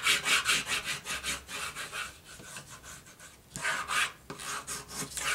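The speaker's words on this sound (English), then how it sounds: "turn that back over and give that a burnish" Paper being burnished flat while assembling a handmade mini album, a steady rhythmic rubbing and scraping in repeated strokes, close and fairly loud, with a brief pause midway before the strokes resume.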